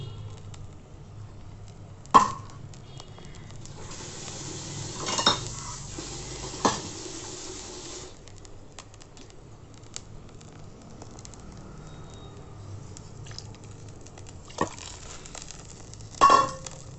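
Millet grains poured into a pot of boiling water, a soft, low, steady rush with a few sharp metallic clanks of the pot and utensils along the way.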